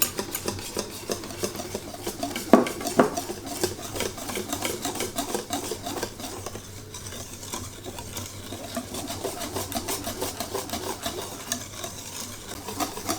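Kamkuqe batter is thinned with milk and mixed in a bowl. A steady, close, wet swishing and scraping runs throughout, with one brief clatter near the start.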